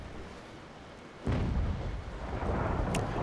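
A ship's cannon broadside in the Naval Action naval battle game erupts as a sudden heavy boom followed by a sustained rumbling roll of fire, with a sharp crack near the end.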